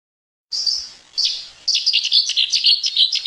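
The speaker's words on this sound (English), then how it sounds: "I don't know if you're listening to this particular song. It is the Settis Warbler, Il-Bufula tal-Olle." Sedge warbler song from a Malta wetland, a rapid chattering stream of high, scratchy notes: two short phrases, then a longer run of busy chirps and trills, close and clear with no other sounds.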